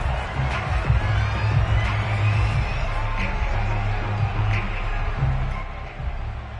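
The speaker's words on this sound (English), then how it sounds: "Plenty of shouts from this crowd as they watch the replay" A stadium crowd shouting in a Madden video game, a steady, moderately loud wash of massed voices and scattered whoops that holds without a break, with a low hum beneath.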